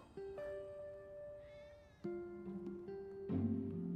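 Several cats meow in the Final Fantasy 7 Remake video game, with a few clear, drawn-out meows at intervals, some layered over one another, heard quietly and alone without speech.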